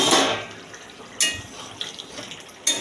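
Water pours into a pan of soybean and potato curry in a brief rushing splash, followed by a few shorter splashes and clatters, close and moderately loud with no talking.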